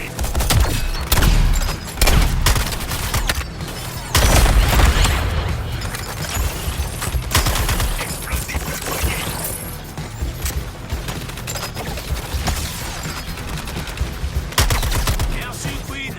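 Rapid bursts of automatic gunfire from Suicide Squad: Kill the Justice League, loud and dense for the first few seconds, then steadier volleys with scattered booms under a busy game soundscape, with occasional voices.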